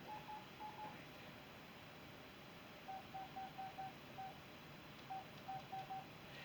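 A phone dials out, sending short, faint DTMF beeps in a few quick clusters over a steady low hiss, with no voices.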